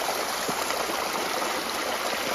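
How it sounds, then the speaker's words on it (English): Water rushes steadily through a gold sluice set at about 8 degrees in New Hampshire, a constant loud broadband wash with no talking. "Much better water flow than last night right here"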